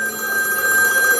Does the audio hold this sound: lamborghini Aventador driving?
no